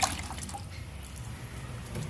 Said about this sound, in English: Now I'm gonna start adding my water, and then we'll be good to go.